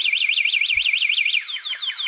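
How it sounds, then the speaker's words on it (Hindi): The anti-theft alarm of a Mudit SR-Rongda electric scooter sounds loudly and close, a warbling siren rising and falling in fast regular sweeps, then changing to quicker descending chirps. "अगर कोई अगर इसे कोशिश भी करे चोरी करने को तो अलार्म"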